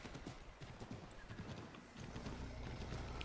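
Horse hooves clip-clopping at a gallop in Assassin's Creed III, a steady rapid rhythm of close hoofbeats with a brief whinny, running alone without talk.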